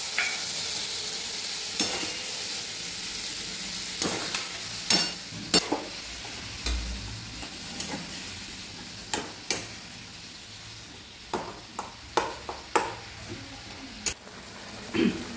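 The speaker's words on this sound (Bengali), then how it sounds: "হালকা একটু জল দিয়ে মশলাটা কষে নেব।" Spices with salt, a little sugar and a splash of water sizzle steadily in a pan for a pointed-gourd curry, with the frequent scrape and clack of a spatula stirring them.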